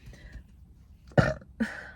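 A short, close throaty burp rises out of quiet room tone, followed moments later by a second smaller belch.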